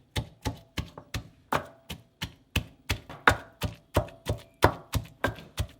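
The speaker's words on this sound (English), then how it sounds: "Pound this to mince this garlic and ginger." Garlic and ginger being pounded and minced for kimchi, a steady run of about eighteen close, sharp thuds in an even rhythm, heard alone.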